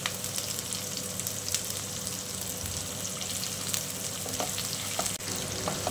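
Onion and ginger sauté in a wide, flat pan, giving a continuous close sizzle with faint stirring ticks throughout, steady and fairly quiet.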